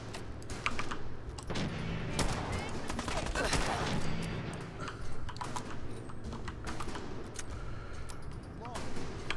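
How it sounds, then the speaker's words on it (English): Gunfire in the video game Fallout 4: a string of sharp, loud shots in close succession over a steady game backdrop, with clicking keys in between. "All right, let's just shoot this dude."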